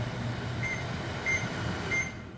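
A GE Hotpoint microwave oven from 2012 runs with water boiling inside, a steady low hum and whir filling the clip with faint periodic tonal chirps, no talking.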